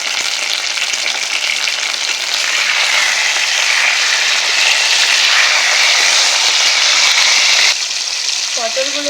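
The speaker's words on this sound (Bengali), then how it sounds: "পটলগুলোকে ভালো করে ভেজে নেব।" Slices of pointed gourd (potol) fry in hot oil in a pan, giving a loud, steady, close sizzle that runs unbroken, with a slight dip near the end and a few stirring clinks.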